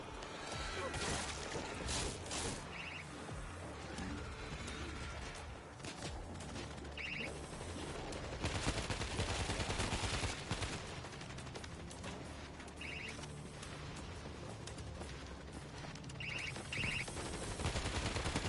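Heavy gunfire in a video game, bursts of rapid shots with mechanical clanks and crashes running almost nonstop, loud and close, with occasional voices underneath.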